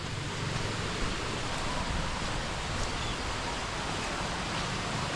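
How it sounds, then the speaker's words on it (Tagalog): A small stream swollen by flooding rushes strongly, giving a steady, dense wash of flowing water that stays loud and unbroken throughout, with no voices. "Lakas-lakas yung tubig guys"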